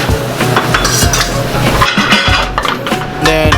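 Quinoa sautés with garlic and olive oil in a pan, loud close stirring with repeated utensil scrapes and clinks against the pan over a constant sizzle.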